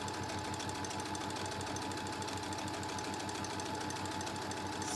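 A sewing machine runs a seam along the curve of a mask pattern, its rapid, regular needle chatter steady and quiet throughout, with no talking over it.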